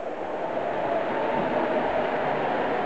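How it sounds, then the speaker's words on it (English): A model freight train rolls along a layout past a train orders building, giving a continuous, moderately loud rumbling run with no clear pauses. "Here comes that freight train again. It's going to slow down again when it goes past that train orders building."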